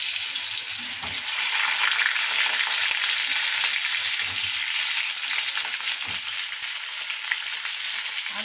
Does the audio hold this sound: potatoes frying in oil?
yes